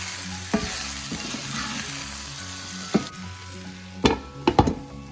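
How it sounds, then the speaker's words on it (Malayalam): Two large thinly sliced onions frying with salt in a pan, a steady close sizzle with a few sharp spoon knocks and stirring scrapes, the knocks clustering near the end. "സവോള ഒന്ന് പെട്ടെന്ന് മൂത്ത് വരാൻ വേണ്ടി ഉപ്പ് ചേർക്കാം"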